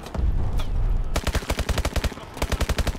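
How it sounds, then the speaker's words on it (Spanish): Rapid bursts of automatic gunfire in Call of Duty: Advanced Warfare crack out in a fast, steady rhythm, loud and close, after a brief rumbling lead-in. "No me detengo, pero nos están disparando"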